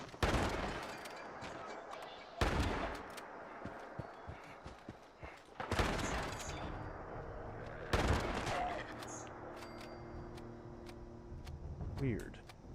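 Gunfire rings out in Fallout 76, several sharp, loud blasts spaced a couple of seconds apart with scattered smaller cracks and echoing tails between them, and tonal game sounds hum in the quieter gaps.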